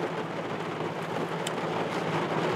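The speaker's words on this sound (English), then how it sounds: "I cannot describe to you how sick and tired of all this rain I am." Steady, dense rainfall pours down outdoors in a hiss of drops striking surfaces, continuous and fairly loud, with a faint low rumble beneath and no voices.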